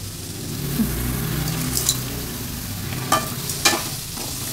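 Onions fry with salt in a pan for an egg kuzhambu, giving a steady close sizzle with a few sharper scrapes and clinks of stirring and no talk.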